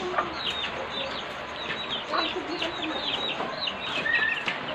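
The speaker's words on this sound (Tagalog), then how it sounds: "Agito yung mga manok." Chickens clucking and calling repeatedly nearby, several birds overlapping in short bursts against a quiet outdoor background.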